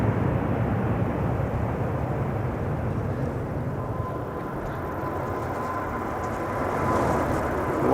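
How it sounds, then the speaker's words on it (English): Emirates Boeing 777-300 departing Amsterdam Schiphol, a loud continuous low jet engine roar rumbling steadily close by, with no talking. "Emirates 777-300 on its way to Dubai"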